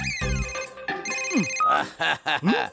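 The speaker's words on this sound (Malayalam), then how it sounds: "ആരെങ്കിലും ഒന്ന് വേഗം ഫോൺ എടുക്കടേ" A telephone rings with an electronic, melodic tone, repeating bursts that rise and fall, loud and close, with sharp clicks between rings.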